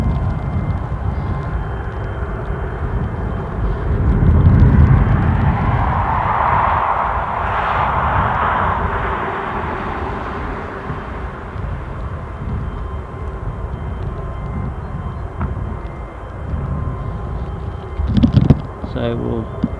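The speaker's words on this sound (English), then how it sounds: "So we'll just zoom up a bit closer on this Lufthansa Regional Embraer 190." A Lufthansa Regional Embraer 190 at Newcastle airport, its jet engines giving a steady broad roar that swells and then eases, heard from a distance, with a voice talking over it.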